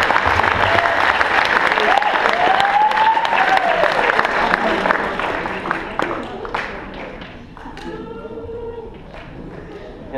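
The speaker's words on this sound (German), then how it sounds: "Ein Applaus für die Leitung." A crowd claps loudly and steadily at an integration evening in Bottrop, mixed with cheering and chatter, then gradually thins and softens toward the end as a voice briefly speaks over it.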